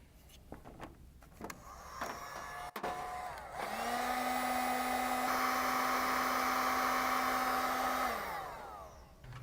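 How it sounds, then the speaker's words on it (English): Heat gun shrinking heat-shrink coating on red and black wire terminals during a Holley Sniper EFI install on a 1967 Chevy Camaro: a few clicks and handling noises, then a steady whirring fan hum that runs for several seconds and winds down. "Use the heat gun to shrink the protective coating that's found on the terminals"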